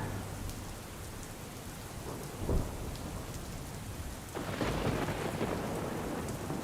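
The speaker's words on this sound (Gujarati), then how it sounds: "સુરતના બારડોલીમાં ધોધમાર વરસાદ ખાબક્યો" Steady heavy rain pours down in Bardoli, Surat, with a low thunder rumble partway through and the downpour growing louder afterward.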